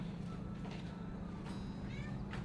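A cat outside meows a few times at a distance, short faint calls rising over a steady low household hum.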